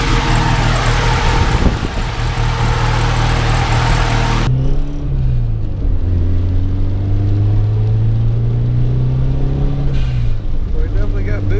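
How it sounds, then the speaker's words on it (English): A turbocharged car engine, just after a turbo swap, revs loudly with wastegate flutter, then settles into steady rising and falling engine drone, close and continuous throughout. "I can still hear my wastegate."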